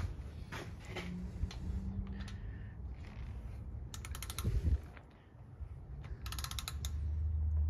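Torque wrench tightening rocker arms on an LS engine to 22 pounds, with quiet repeated ratcheting clicks in short bursts against a low background rumble.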